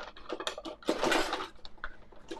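Rummaging through a sticky kitchen drawer for a spatula during a cauliflower crust pizza cook on a Blackstone griddle: clattering utensils and metal pieces knock together in irregular bursts, with a louder jumble in the middle, close and alone.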